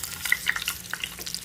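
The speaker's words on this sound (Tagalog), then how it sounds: "Kailangan ko na siyang baliktarin." Tofu fries in a pan while being flipped with a small ladle, giving a busy sizzle with sharp crackles and pops scattered across a short burst, close and fairly soft.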